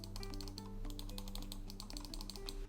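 A clacky purple computer keyboard being typed on up close, a quick, steady run of crisp key clicks alone against a low hum.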